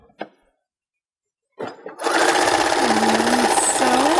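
Sewing machine stitching a scarf, a steady fast whirring clatter that starts after a short pause and runs on loud and close, preceded by a couple of brief handling knocks.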